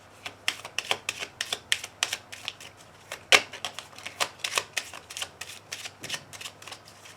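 Small cards are shuffled and handled in a quick run of crisp, close flicks and taps that come in uneven bursts for several seconds, with no voices.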